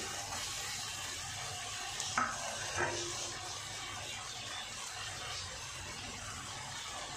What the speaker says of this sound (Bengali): আমি টমেটোটাও দিয়ে দিচ্ছি।